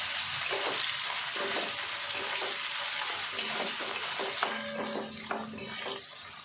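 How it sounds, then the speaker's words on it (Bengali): Potato pieces frying in a pan for a bhola fish curry, a steady hissing sizzle with occasional light scrapes and taps of stirring, fairly quiet and close, with no talk. "আলুগুলো মোটামুটি আমার ভাজা হয়ে গেছে"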